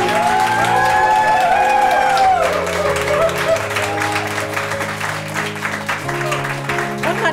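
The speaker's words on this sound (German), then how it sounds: "Ich möchte euch nochmal ganz herzlich bitten für einen ganz großen Applaus für den Christoph" Crowd applause with some cheering for the pianist at a benefit concert, steady loud clapping mixed with sustained musical tones and voices.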